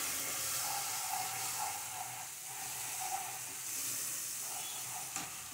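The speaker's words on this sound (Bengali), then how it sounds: "মশলাটা আমি একটু কষিয়ে নেব।" Spice paste, mixed with water, sizzles and fries steadily in a pan while being cooked down for a vegetarian moong dal, a continuous soft hiss with faint stirring scrapes throughout.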